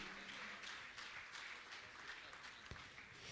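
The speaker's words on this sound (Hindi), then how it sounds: "जोरदार ताली बजाकर इनका सम्मान करें।" Audience applause at a Jain religious gathering, a steady wash of many hands clapping from a crowd, fairly faint and continuous throughout.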